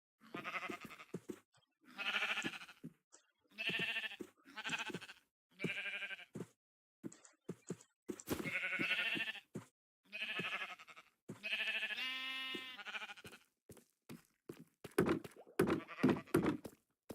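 Sheep in Minecraft bleat over and over in short voiced calls, spaced about a second apart, with a few soft block thunks mixed in near the end.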